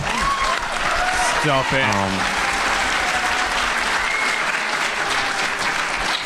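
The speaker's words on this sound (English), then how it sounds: "So let's give a round of applause for our panelists here." A convention panel audience applauds loudly and continuously, with some cheering and whistles; a voice speaks briefly over the clapping.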